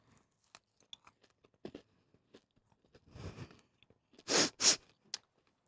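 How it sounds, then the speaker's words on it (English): Someone bites into and chews a donut close to the mic, with scattered small clicks and crunches, then a soft rustling stretch and two loud crisp bites near the end. "I should have probably put a content warning on that for people who don't like the sounds of people chewing."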